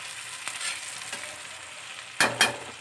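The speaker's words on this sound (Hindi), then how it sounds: "आप इसे बीच बीच में ऐसे चला भी सकते हैं।" Bitter gourd bhujiya being stirred in a pan over low heat: a soft, steady sizzle of frying, then two louder scraping strokes of the spoon near the end, with no talking.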